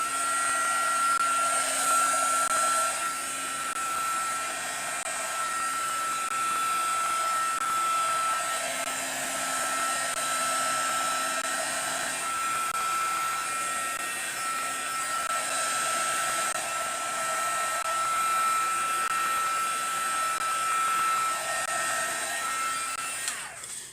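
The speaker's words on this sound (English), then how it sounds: "as you are blowing the heat gun or the heat onto the alcohol, it is going to dry up the alcohol" A heat gun blowing steadily onto alcohol ink during a coaster-making demo, a loud, continuous whine with a shifting hum that runs close and unbroken throughout.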